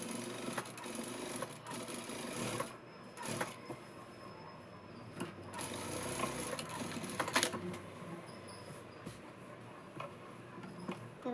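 A sewing machine stitches the seam of a Punjabi dress in quick mechanical bursts of rapid ticking, pausing between runs, close and moderately loud with no speech.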